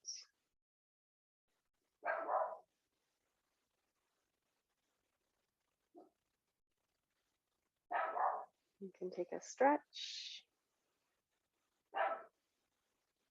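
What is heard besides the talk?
dog barking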